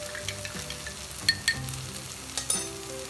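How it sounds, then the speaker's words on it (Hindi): Besan and curd batter being poured into a hot pan for a home-style sabzi, an even sizzle with a few sharp utensil knocks and scrapes, no voices. "अब मैं इसमें डालूँगी ये जो घोल कर रखा था बेसन और दही"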